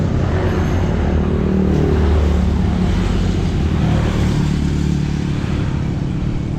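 Touring motorcycles rumble steadily alongside a bicycle climbing a long, gentle uphill road past rice fields, a continuous loud engine drone mixed with wind noise and no pauses.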